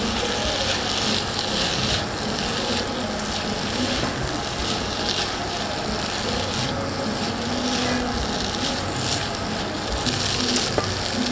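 Green pasta sizzles in a hot pan while being stirred and mixed, a steady dense frying hiss with scraping utensil strokes throughout, close and continuous with no talking.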